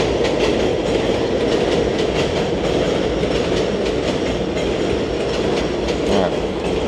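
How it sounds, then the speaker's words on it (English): A train rumbles past close by a home garage workshop where Mercedes-Benz brake parts are being worked on, a steady broadband roar with rhythmic clickety-clack of wheels over rail joints lasting throughout, loud and continuous with no talk. "Gotta love the trains."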